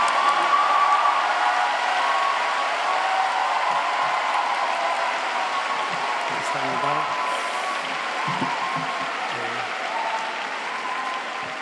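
A church congregation at a Thursday-night Pentecost prayer meeting applauds to welcome the preacher, with loud, sustained, dense clapping filling a large hall and a faint murmur of voices underneath.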